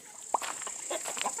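Roosters cluck just outside a chicken coop, with a few short clucks and calls that rise over a steady high hiss of farmyard background.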